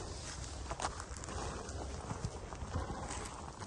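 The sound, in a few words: black horse walking, hooves clip-clopping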